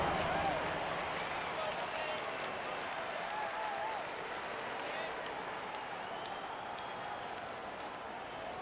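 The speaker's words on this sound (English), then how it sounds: "Give yourself a round of applause." Steady crowd applause fills a basketball arena during a Celtics–Pacers playoff game, a dense wash of clapping with faint cheering and announcer-style voices under it, holding level throughout.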